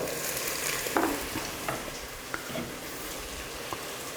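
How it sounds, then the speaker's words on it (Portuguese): Garlic and onion sizzle and fry in a pan, a steady close hiss with a few scattered stirring scrapes and clicks. "O nosso alho também está lá no processo o alho e a cebola, no processo de redução e dourar também."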